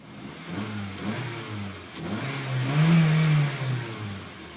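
2012 Honda Civic engine revving twice, rising and falling, the second rev longer and louder, heard close with no talking.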